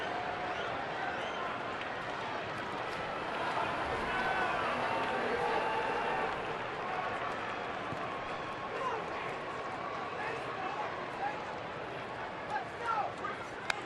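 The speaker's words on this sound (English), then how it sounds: "you can hear the crowd here already getting restless" Restless baseball stadium crowd during a Reds at Diamondbacks game, a steady dense roar of many voices filling the ballpark, with an announcer talking over it.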